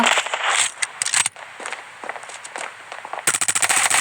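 Automatic weapon fire in a video game rattles in rapid, close bursts of sharp cracks, with a dense volley opening the stretch and another fast burst closing it.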